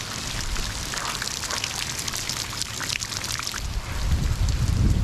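Rain pours steadily with a dense patter and splashing, growing a bit heavier and rumblier toward the end, with no voices.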